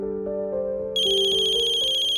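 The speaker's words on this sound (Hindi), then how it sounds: "कियारा मैम का ही फोन है।" An electronic phone ringtone plays a repeating melodic tune, growing brighter and louder partway through, with no talking.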